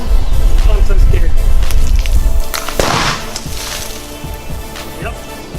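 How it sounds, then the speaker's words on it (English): A sudden sharp blast bursts out partway through, cutting through a loud low rumble that comes before it, then the noise dies away, as molten salt poured into water explodes. "Yep, that was an explosion."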